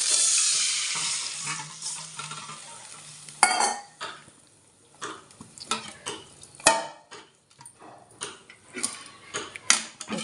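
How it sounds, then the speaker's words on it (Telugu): A tempering sizzles in a pan for an amaranth leaf tamarind curry: a loud, steady hiss fills the first few seconds, then gives way to scattered metallic clinks and scrapes of stirring. "తాలింపు వేసినాక"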